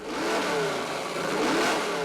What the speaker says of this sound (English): Now the big block's warmed up and ready for a follow-up run with water-methanol injection.